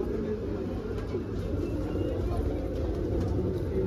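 Saharanpuri pigeons at a shop in Meerut give soft, low cooing that runs steadily through the whole stretch beneath other birds and a busy background hum.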